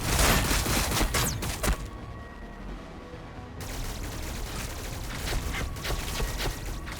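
Rapid gunfire and explosions from battle in the turn-based strategy game Warhammer 40k Battlesector, loud and dense throughout, with a brief near-silent gap in the highs midway before the barrage resumes.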